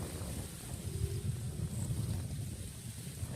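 Strong wind blowing across an open rice field, a steady low rumble of gusts buffeting the microphone, continuous and fairly close.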